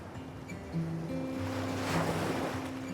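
Calm sea waves roll and wash softly at sunset on open water off Thailand, a low steady surf with some wind noise over the microphone and a faint boat hum, moderately quiet and continuous.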